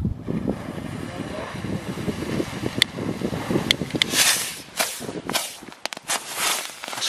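Small consumer fireworks crackle in a rapid burst of sharp pops and snaps outdoors, following a stretch of voices and wind noise, with whistling baby rockets nearby.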